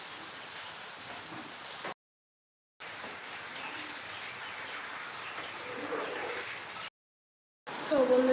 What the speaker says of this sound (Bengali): বৃষ্টি একদমই কমছে না